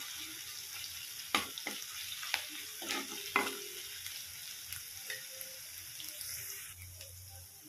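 Garlic sizzles in a pan of hot oil, a soft steady crackle with a few sharp clinks and scrapes of a spoon against the pan, close by and with no talking.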